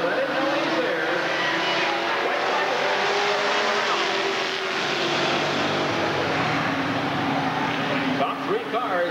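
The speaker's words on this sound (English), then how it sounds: "Top three cars, nose to tail down the back straightaway." Street stock race cars roar around an oval at a raceway during a trophy dash, engines droning and shifting pitch as they run nose to tail, continuous and loud throughout, with an announcer talking over them.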